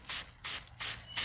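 Light bursts of stencil ink sprayed from a distance onto shipping pallets or boxes, four short, even hisses in a steady rhythm, close and fairly loud with no talking.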